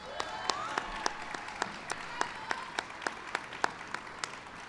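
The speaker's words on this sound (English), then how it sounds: "Give her a big round of applause." Applause for Tammy Duckworth at a Wounded Warrior Project Soldier Ride, a steady crowd clapping with individual sharp claps standing out at regular intervals throughout.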